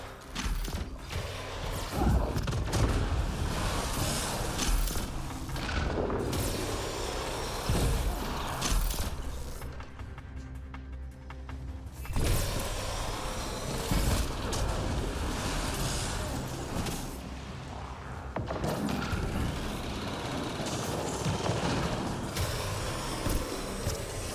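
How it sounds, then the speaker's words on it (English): Repeated explosions and crashing impacts in Mass Effect Andromeda multiplayer combat, with dense, loud blasts, thuds and debris layered almost continuously, a brief lull near the middle, and faint voices mixed in. "I don't know how many explosions that was"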